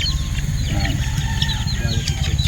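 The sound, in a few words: chickens and rooster clucking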